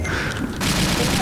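Plasma gun firing in the Brutal Doom video game on a Scythe map, a rapid burst of weapon shots with a sudden loud surge partway through, layered with crackling fire and dense synthetic blasts.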